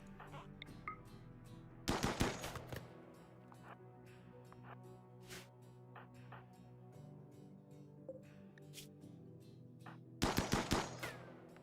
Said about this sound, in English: Good shooting. We got it.